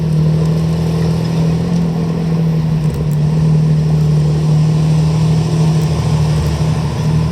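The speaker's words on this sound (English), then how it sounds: "The engine note, by the way, they gave up putting a silencer on the back of this vehicle." A British WWII tank engine runs with no silencer, only a fishtail exhaust, giving a loud, steady, deep droning hum that holds at an even level throughout.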